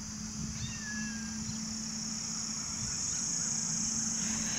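A small kitten gives a few thin, high meows over a constant background hum and hiss, faint and somewhat distant.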